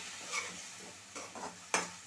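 A paste of ground green chili, ginger, garlic and onion with turmeric and salt is stirred in a hot pan, giving soft scraping strokes and faint sizzling bursts, fairly quiet, with no talking.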